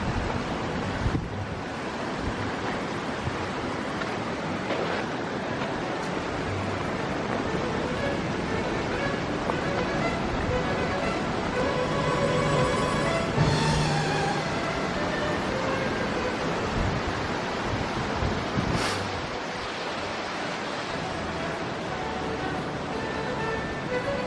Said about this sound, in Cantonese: 咁樣又影到一個瀑布啦